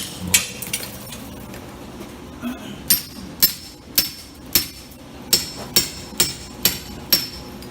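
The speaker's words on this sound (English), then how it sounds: "We're chiseling out." A hammer drives a chisel into an old jailhouse roof beam to cut a pocket, landing a quick series of sharp, ringing metallic blows close up. The strikes speed into a regular rhythm in the second half, with no talking.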